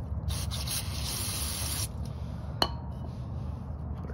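Cleaner sprayed onto a carburetor part from a Husqvarna 360 BT in a garage, a close steady hiss for about two seconds ending abruptly, followed by a sharp click and quieter rustling.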